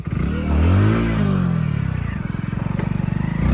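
A stuck motorcycle revs hard and loud close by, its engine swelling and then dropping into a steady rapid chugging, with no talking over it.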